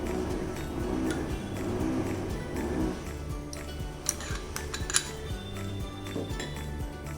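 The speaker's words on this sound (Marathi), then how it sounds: "रवा आणि दही व्यवस्थित आपल्याला मिक्स करून घ्यायचं आहे." Semolina and curd mixed in a mixing bowl, with soft scraping at first and then a run of light clinks and taps of the utensil against the bowl, close and fairly quiet, with no talk.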